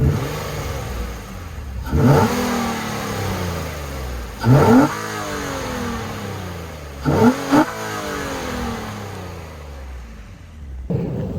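A 2005 Nissan Altima SE-R with the intake resonator removed revs up three times, each sharp rise in engine pitch falling away into a throaty exhaust rumble before a brief final blip.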